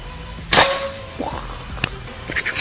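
A PCP Marauder OD 38 Duralium air rifle fires a single sharp, loud shot during an outdoor accuracy test, followed by a faint distant impact and some quiet clicks.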